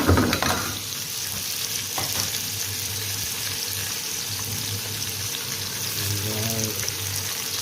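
Garlic and onion fry in a pan with a continuous loud sizzle and occasional stirring, the crackle steady and close throughout with no talk.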